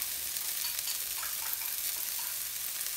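Ginger and garlic stirred into a hot pan of sizzling Kung Pao beef, a steady bright frying hiss running throughout with faint scraping of the stir, close and even.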